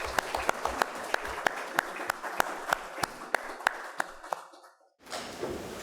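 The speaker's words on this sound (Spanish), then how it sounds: "un aplauso para ella, por favor." Audience applause at a book presentation at the Casa de la Literatura in Peru, a small crowd clapping with one sharp, evenly spaced clapper standing out, dying away near the end before a quiet room sound returns.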